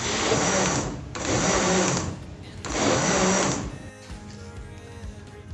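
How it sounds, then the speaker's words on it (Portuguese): A kitchen blender pulses rice cake batter in three short, loud bursts with brief pauses between them, then falls quiet. "Aí a gente vai dar só uma pulsação no liquidificador"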